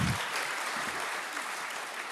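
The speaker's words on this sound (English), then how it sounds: "You should clap for that." Audience applause at a socialist political conference's opening night, a steady wash of clapping heard at moderate distance, fairly soft and even throughout the short stretch.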